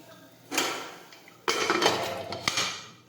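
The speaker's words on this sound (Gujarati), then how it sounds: "હવે આપણે કુકરનું ઢાંકણ છે તે બંધ કરી દઈશું" A pressure cooker lid being closed over a guar bean curry, a few close metallic clanks and scrapes in separate bursts, loud against a quiet kitchen.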